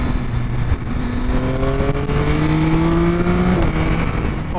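Yamaha Tracer 9 GT motorcycle from 2022 accelerating hard, the engine note climbing through several gears in rising sweeps with brief drops at each shift, loud and close with steady wind rush.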